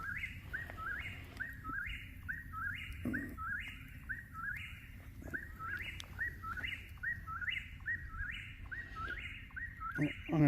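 Outdoors at night, a bird sings loudly and insistently, repeating the same short whistled phrase over and over in a steady rhythm above low background noise.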